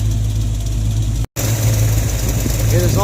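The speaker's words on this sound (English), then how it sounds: "I'm pretty sure that exhaust leak is getting worse." A Ford Mustang with an exhaust leak idles up close in a loud, steady low rumble, the sound cutting out briefly midway before resuming.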